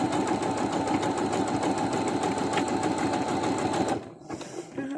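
A new full 7mm-width sewing machine runs a fast, steady stitch with a dense mechanical chatter for about four seconds, then stops abruptly, leaving faint handling sounds.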